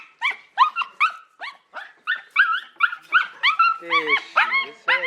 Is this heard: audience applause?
no